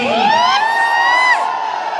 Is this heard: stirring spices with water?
no